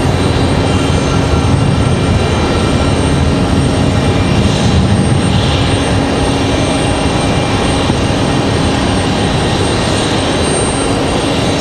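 Frontier Airlines jet with otter livery taxiing and turning left at Raleigh-Durham airport, a steady broad engine roar holding at constant loudness throughout, close and alone with no voices.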